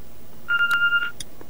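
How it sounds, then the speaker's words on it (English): A telephone or answering machine gives a short electronic beep, a single sustained two-tone chirp lasting about half a second, followed by a faint click, set against a quiet room. "What's that beeping?"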